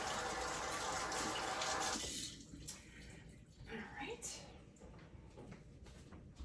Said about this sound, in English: So I'm gonna wash that off.